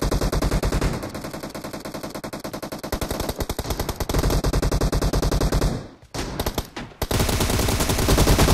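Rapid automatic gunfire from PUBG Mobile rattles loud and close in sustained bursts, briefly dropping away before the shooting resumes, with no talk over it.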